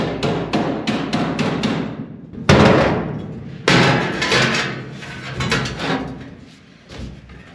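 Hammer blows while fitting a Nomad stereo and touchscreen mount in a classic car: a quick run of sharp taps, then two heavier strikes with ringing decay, close and loud.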